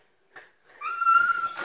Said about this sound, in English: Everybody hear the dog?